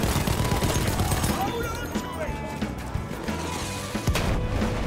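Gunfire rattles in a chaotic Battlefield 1 video game battle, loud, dense bursts and sharp cracks over a continuous wash of combat noise, with a player's voice talking over it.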